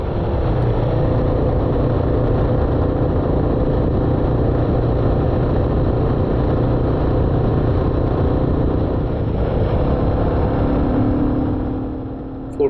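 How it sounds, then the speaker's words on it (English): A Royal Enfield Classic 350 single-cylinder motorcycle cruises in fourth gear at about 60, its engine a steady, continuous drone mixed with wind and road noise, loud and close throughout. "So that's 4th gear at 60, no bother, not too buzzy as you can hear"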